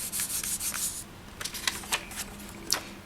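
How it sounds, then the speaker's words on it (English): Polymer clay slices are rubbed and burnished onto a tile with soft, close scraping strokes, a brisk burst at first and then quieter scattered rubs and taps. "Just give them a gentle burnish down onto the tile so that they stick."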